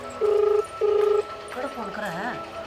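A telephone rings with two short electronic ring tones back to back, then a voice starts talking right after.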